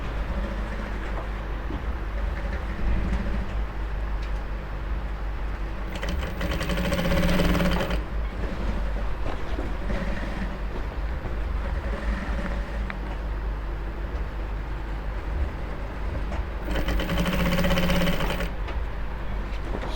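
Sewing machine stitching an Ankara fabric top, a steady continuous mechanical whir running throughout with two louder, busier bursts of fast stitching, close and alone with no talking.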